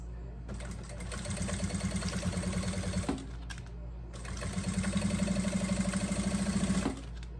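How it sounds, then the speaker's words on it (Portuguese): A sewing machine runs a seam of stitch length 4.5 along the edge of a double wine holder, whirring steadily in two close bursts of about three seconds each with a short pause between. "vou passar a minha costura bem na beiradinha"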